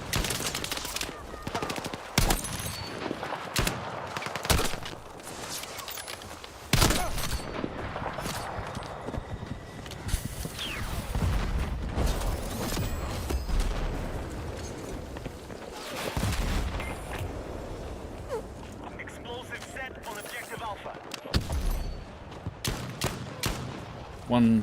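Close-quarters gunfight in Battlefield 6, rapid bursts of automatic rifle fire and single shots crackling nearly continuously, loud and near, with occasional heavier thumps throughout.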